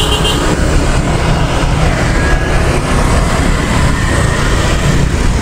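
Jammed road leading toward Tan Son Nhat airport, a continuous loud rumble of idling and creeping vehicles with no pauses in the noise.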